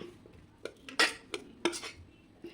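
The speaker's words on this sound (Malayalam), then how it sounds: "നമുക്ക് കപ്പേനെ പ്ലേറ്റിലേക്ക് മാറ്റാം" Metal utensils clink against a plate as boiled chenda tapioca is served. Five or six sharp, close clinks and scrapes come at uneven intervals in an otherwise quiet room, with no talking.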